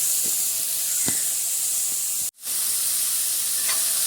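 Chopped onion and wild bitter gourd sizzle steadily in a hot pan, a constant loud hiss with a few faint stirring knocks and one brief dropout midway.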